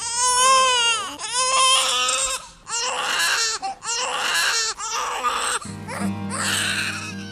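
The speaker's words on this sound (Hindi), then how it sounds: "ये छोटे बच्चे की रोने की आवाज कहाँ से आ रही है?" A baby cries loudly and continuously, wailing in long sobbing bursts with brief breaths between them, close and alone.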